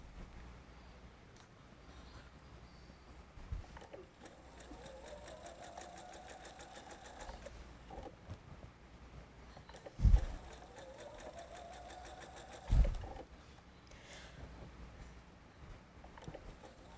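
Sewing machine stitching quilt strip sets for a nine patch block, two bursts of steady rapid whirring a few seconds each, moderately loud, separated by quiet pauses and a couple of sharp clicks.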